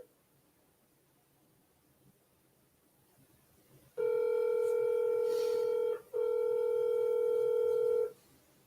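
On a cold call, a phone line gives a steady electronic ringback tone: two long, loud, even tones of about two seconds each, separated by a short gap, after several seconds of quiet line hiss.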